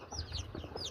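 A mother hen and her six healthy young chicks cluck and peep close by, with low soft clucks under a run of high thin chirps through a brief second.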